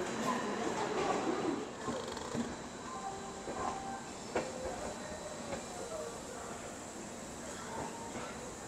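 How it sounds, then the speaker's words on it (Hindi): Gondwana Express train 12410 pulling out of platform 6 at Nagpur railway station: a steady rolling rumble and hiss, with faint clanks and squeals as the carriages move. "15 मिनट रुकने के बाद अपनी ट्रेन का डिपार्चर हो चुका है नागपुर रेलवे स्टेशन के प्लेटफॉर्म"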